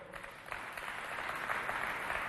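Applause from an audience at a school holiday quiz contest between two neighbourhood teams rises faintly and steadily, a soft far-off patter of many hands with no talk over it.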